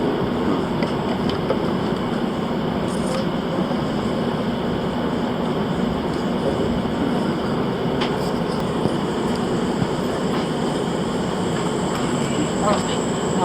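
Steady low rumble and rolling hum of riding aboard the Amtrak Cardinal passenger train between Huntington and Hinton, constant throughout with faint clicks and occasional brief sounds over it.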